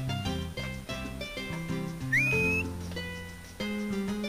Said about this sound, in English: That's my dog's whistle.